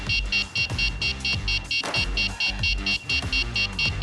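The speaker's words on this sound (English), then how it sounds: "The alarm keeps sounding until you press the button 3 times." Homemade DIY door alarm going off after a door opens: a loud, rapid, evenly pulsing electronic beeping that repeats without pause throughout.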